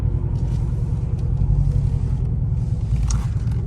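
A truck fitted with a Rough Country exhaust rumbles steadily at low pitch while driving through city streets, giving a close, continuous drone heard from the cabin.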